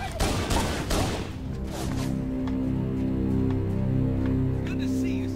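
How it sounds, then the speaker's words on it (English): A loud flurry of gunfire opens a Halo: The Master Chief Collection firefight before giving way to steady droning game music, with voices present. "Who else is shooting me?"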